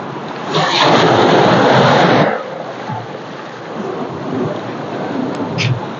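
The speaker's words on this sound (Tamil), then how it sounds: "அலை வந்து அடிச்சு அடிச்சு அடிச்சு அடிச்சு கல்லுகள் எல்லாம் இந்த கடலுக்குள்ள அப்படி சரிஞ்சு கொண்டு வருது பாருங்க." Sea waves crash against a rocky shore at Mullaitivu, Sri Lanka, with a loud, close roaring surge and hiss that swells, eases and is followed by a steady rushing wash of surf.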